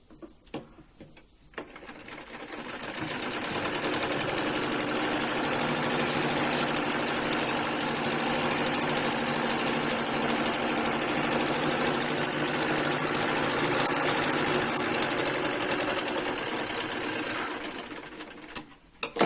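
A sewing machine runs in one long steady burst of rapid stitching, joining the kali panels of a semi-Patiala salwar. It starts after a brief pause, holds loud and continuous near the mic, then stops.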